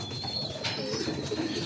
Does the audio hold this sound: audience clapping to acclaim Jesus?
no